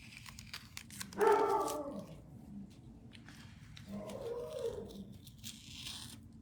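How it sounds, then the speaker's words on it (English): A dog indoors barks in two short bursts a few seconds apart, moderately loud and slightly muffled, against a quiet room background. "my dog really doesn't like whoever's out there."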